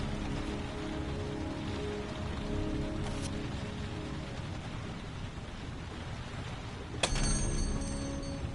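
Steady rain pours throughout in the video game Heavy Rain, a dense broadband hiss of drops on surfaces, with a faint tick near three seconds and a sharper knock around seven seconds, no talk.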